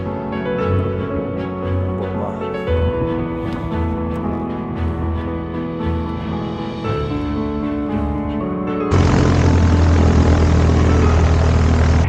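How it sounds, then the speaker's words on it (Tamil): A Piper Warrior light propeller airplane takes off from runway 20 at Mid-Carolina, its engine a loud, steady drone heard from inside the cabin that jumps to a harsher, fuller roar near the end. "Warrior 38522 is taking off runway 20 Mid-Carolina"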